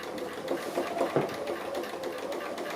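Sewing machine stitching grey thread through layered applique fabric, a steady rapid mechanical whir with a slight pulse in its rhythm, running close and alone.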